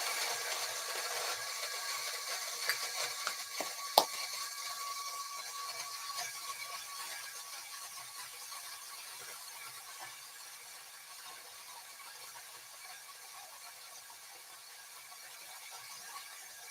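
An espresso grinder grinding coffee beans, a steady close whirring hiss with a few clicks early on, gradually easing in loudness as the grind runs on alone.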